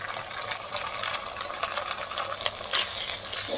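Ginger garlic paste sautés in a pan, a soft, steady sizzle with faint bubbling and occasional small pops, close and moderately quiet, with no talking.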